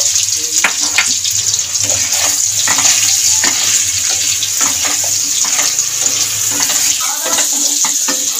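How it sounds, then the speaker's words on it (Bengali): Potatoes fry in hot oil with a loud, continuous sizzle, and a spatula scrapes and stirs at close range. "আলুটাকেও লাল লাল করে ভেজে নিচ্ছি"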